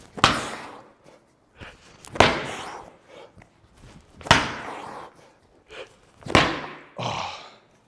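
A medicine ball is slammed into the floor during an explosive golf workout, five sharp, loud impacts about two seconds apart, each ringing out briefly, with no talking.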